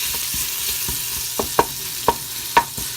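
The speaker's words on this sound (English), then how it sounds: "we're just kind of stirring in the salt, pepper, the red pepper flakes" A spoon stirs salt, pepper and red pepper flakes into frying onions, giving a low steady sizzle with a few sharp scraping strokes against the pan.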